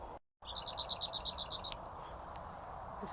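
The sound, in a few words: unidentified bird singing by a fishing lake at dawn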